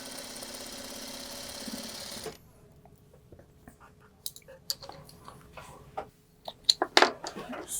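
A sewing machine stitches a quilt seam for a Lemoyne Star block: a steady mechanical whirr for about two seconds, then stops, followed by quiet handling clicks and rustles.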